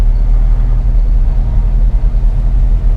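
Low steady rumble of a manual stick-shift car engine under throttle while moving slowly, loud and continuous with slight fluctuations as gas is applied.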